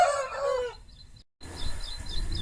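Rooster crowing at a poultry farm near Hyderabad selling quality fighting cocks, a loud close crow-like call in the first second, then a pause and quieter farm background with faint bird calls.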